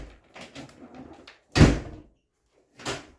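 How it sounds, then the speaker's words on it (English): A decorative glass-paned barn door closes with one loud heavy thud, close by, after some softer knocking and rattling, with another thump a moment later. "Frickin' decorative door in a barn."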